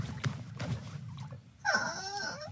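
A dog lets out a whimpering whine near the end, a rising, tonal cry after a stretch of low rumbling background noise.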